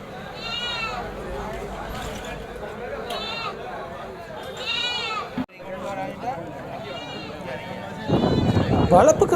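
Goats and kids bleating at Chekkanurani goat market near Thirumangalam, Madurai, several calls scattered through a busy crowd with continuous talk, ending in a burst of louder rustling noise.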